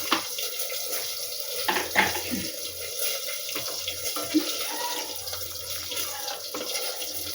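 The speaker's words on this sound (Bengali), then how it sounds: "এবারে এর মধ্যে আমি গরম জল দেবো, কোনো ঠান্ডা জল আমি দেবো না, একটু গরম জল দেবো।" Hot water poured into a pot of red lentils with salt, a steady running, splashing stream of liquid filling the pot up close, with a couple of brief clinks partway through.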